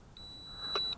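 One steady high-pitched electronic beep from a toy quadcopter's remote control transmitter holds for most of a second, with a faint click partway through, in an otherwise quiet setting.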